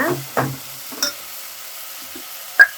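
Onion and tomato for a brinjal curry stirred in a hot pan, a few soft sizzles and spoon scrapes spaced out at close range, then a quiet pause and one sharp clink.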